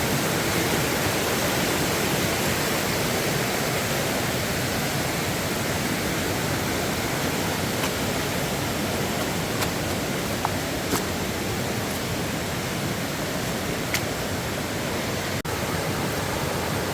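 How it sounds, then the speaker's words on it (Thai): A clear mountain stream running down from the hills, its broadband rushing water steady and close throughout, with no voices over it. "ที่นี่น้ำไหลสวยงามมากเลย"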